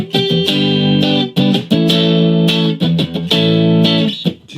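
A homemade Telecaster played on the neck pickup through an amp with a little gain and no reverb gives warm, soft chords strummed in several loud, close bursts that end in a decaying ring.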